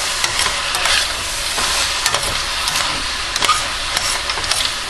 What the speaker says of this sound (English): And in goes about 1/2 cup or better of raw almonds.